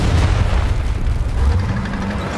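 A tank shell striking its target in War Thunder: a deep, rumbling blast that rolls on for a couple of seconds as one dense, loud wall of low boom and crackle.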